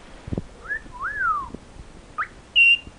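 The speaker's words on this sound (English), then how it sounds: "My friends want to see you wolf whistle" A bird gives a two-part wolf whistle, a rising note then a falling swoop, followed by a few short chirps and a bright high whistle.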